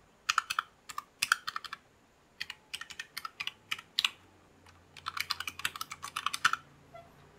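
An older keyboard is typed on in quick, irregular clusters of sharp, crisp key clicks, close and fairly quiet in an otherwise silent room.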